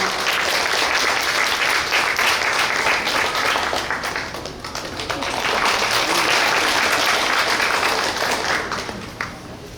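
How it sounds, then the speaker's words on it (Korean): Sustained applause and clapping from an audience at a Suncheon memorial cultural event for the May 18 Democratic Uprising, welcoming a youth speaker to the stage, loud and steady with a brief dip midway before swelling again. "큰 박수로 맞이해 주시기 바랍니다."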